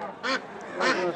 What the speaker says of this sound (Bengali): এই খাঁচায় করে হাঁস কিন্তু নিয়ে এসেছেন ওনারা